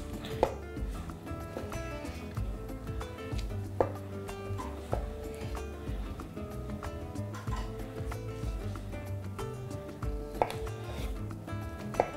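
Kiwi being diced into cubes with a knife on a cutting board, a steady run of soft light taps and occasional sharper chops, close and fairly quiet.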